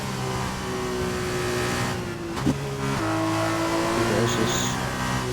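A Formula 2 race car in a sim racing game revs hard through the gears on the Japan circuit, its engine note holding, dropping at a shift and climbing again, loud and close.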